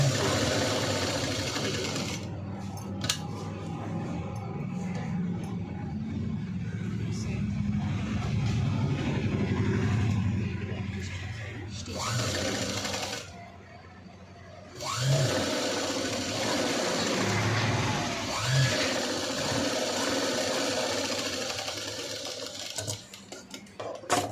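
A sewing machine runs in long steady bursts while stitching the lining of a V-neck princess-cut blouse, loud and close, with a couple of short pauses between runs and no talk.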